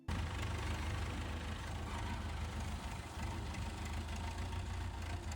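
A tractor engine idles with a low, steady throbbing rumble, moderately close and continuous, with no one speaking.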